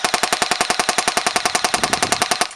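An ASG STEN MII airsoft gun fires pellets at a pole outdoors in one rapid, continuous full-auto burst of loud, evenly spaced cracks that ends abruptly.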